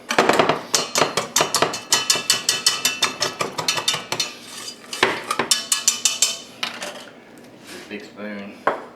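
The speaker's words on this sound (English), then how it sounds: "Get it mixed good before I add in the milk." A spoon beating banana pudding mixture in a bowl, rapid rhythmic clinking and scraping strokes, close and loud, repeating in quick bursts with brief pauses.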